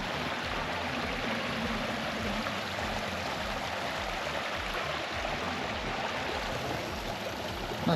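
A stream of running water beside a walking trail in the Peak District, near Chee Dale and the Monsal Trail, makes a steady, fairly loud rushing and gurgling wash that holds unbroken for the whole stretch.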